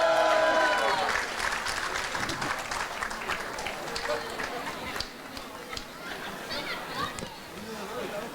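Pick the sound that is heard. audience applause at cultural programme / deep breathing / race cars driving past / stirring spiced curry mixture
audience applause at cultural programme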